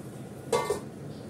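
A metal lid is set down on a cooking pot of simmering lentil-cake curry with green chilies, giving two quick, light clinks close by against a quiet kitchen background.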